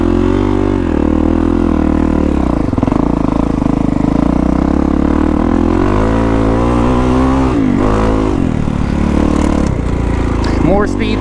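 Dirt bike engine revving hard while freeriding desert trails, loud and close, with a steady drone that rises and falls as the throttle opens and closes, gear and clutch changes audible throughout.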